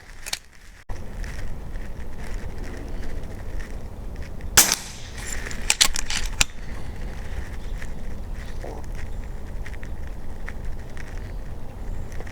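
FX DRS air rifle firing AEA pellets outdoors, a few sharp cracking shots and clicks around the middle of the stretch, standing out from steady background noise with no talk.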